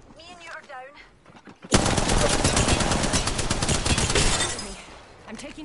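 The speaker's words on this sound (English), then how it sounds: "I'm taking shots." Rapid automatic gunfire erupts in a shooter video game after a brief spoken moment, a loud, dense burst of shots that runs for several seconds before tapering off.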